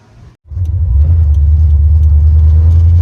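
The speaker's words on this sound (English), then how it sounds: "Let's take it for a test drive now." A Holden VL car engine starts up on a test drive. After a brief quiet gap it settles into a loud, deep, steady rumbling idle close by.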